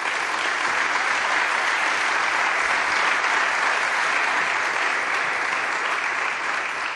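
A large audience at an engineering study presentation applauds steadily and loudly for the panel members, a dense unbroken wash of clapping that lasts the whole stretch.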